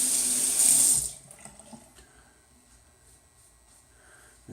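Tap water runs loudly for about a second while preparing for a wet shave, then cuts off, leaving only faint handling noises and low room sound.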